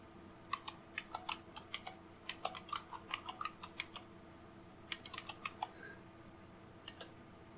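Quiet typing on a computer keyboard during a Linux installation, with bursts of individual keystrokes clustered in short runs and pauses between them, fairly close and faint, without talking.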